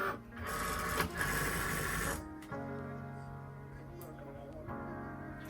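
Cricut cutting machine working through cardstock, a steady mechanical whir with carriage shuffling that shifts tone partway, close and alone without talk.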